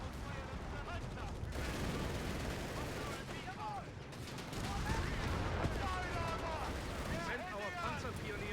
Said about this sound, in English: They've opened fire on us!